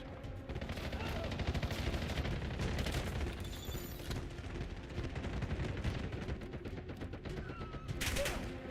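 Gunfire rattles in Black Ops 7 multiplayer, dense rapid bursts and booms mixed together continuously throughout, moderately loud with game sounds around them.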